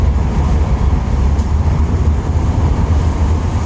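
Light rail train running between PITX and Fernando Poe Jr stations, a steady loud low rumble and hum of the moving car with no break and no voices.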